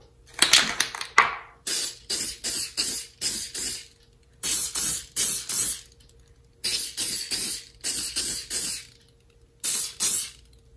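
Spray paint cans apply a coat to kitchen cabinets, making repeated loud hissing bursts about a second long with short pauses between them, close and clear.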